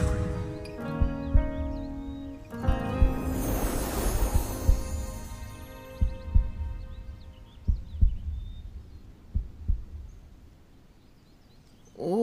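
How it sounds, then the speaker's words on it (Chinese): A heartbeat thumps steadily in soft low pulses, close and intimate, over a dense sustained musical drone and hum that fades toward the end. "我好像听到你的心跳声了。"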